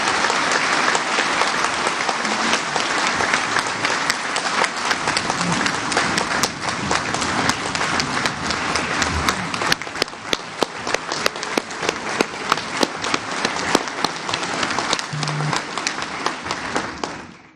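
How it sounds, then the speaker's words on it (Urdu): A hall audience gives Dr. Tariq a loud, sustained round of applause at a public event in Pakistan, dense clapping that runs on for many seconds and ends in a few scattered claps. "آج میں سب کو چاہوں گا کہ ذرا زوردار اپلاز کے ساتھ ڈاکٹر طارق کو"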